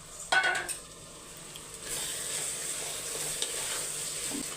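Carrots, beans and other vegetables sautéing in oil for potato pea gravy, a soft continuous sizzle with a brief clatter of a utensil against the pan near the start.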